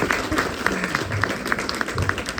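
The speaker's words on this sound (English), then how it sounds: "If you want to clap, clap full-heartedly." Audience at a devotional spiritual talk clapping together, a steady mass of hand claps with a faintly repeating rhythm, moderately close and continuous throughout without speech.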